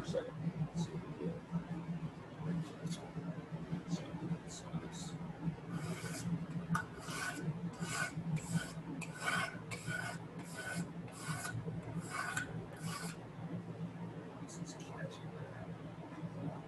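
A hand-held cabinet scraper draws across wood in a run of faint, rhythmic rasping strokes, about a dozen in quick succession, heard over a low room hum and distant murmured talk.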